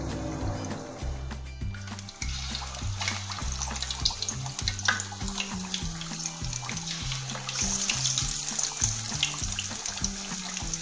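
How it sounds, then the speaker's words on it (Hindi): Pieces of rohu fish fry in hot oil in a pan, giving a steady, soft sizzling and crackling that continues alone throughout, fairly quiet and close. "और मछली को इसमें डाल देंगे फ्राई होने के लिए।"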